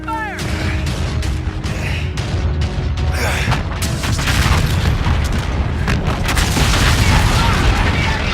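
Naval guns and explosions in a Call of Duty battle pound loudly and almost without pause, as sharp blasts and heavy booms pile on top of each other with crashing, mechanical clatter beneath.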